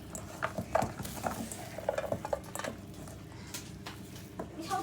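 Hands fold sticky hot cross bun dough in a bowl, giving wet, squelching slaps and soft squishes in an uneven rhythm close by.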